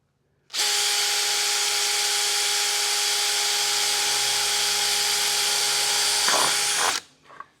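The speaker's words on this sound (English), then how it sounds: "Did you hear all the spinning and not all the cutting?" A drill whines at a steady high pitch for about six seconds, its bit spinning freely against sheet metal without cutting, with a constant tone, then winds down and stops.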